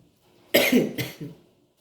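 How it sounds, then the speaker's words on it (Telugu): A couple of harsh, close coughs from someone with a cold, in quick succession, the second softer, followed by a brief throaty trailing sound. "కొంచెం కాఫ్ అయిందండి కోల్డ్ అయ్యి సారీ"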